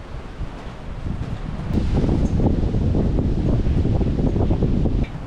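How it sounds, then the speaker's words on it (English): Strong wind roars steadily across the microphone of a sailboat cruising at about 7 knots in a 20-knot breeze gusting to 25 on the Great Barrier Reef, with a loud gust swelling midway over the rush of water. "It is averaging sort of 20 knots of breeze, but it does gust to 25."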